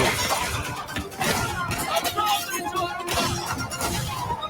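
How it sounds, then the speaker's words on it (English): Glass shatters repeatedly during a violent shootout scene in the video game Mafia: The Old Country, with dense crashing and tinkling debris blending with game effects and talk. "Glass is shattering everywhere."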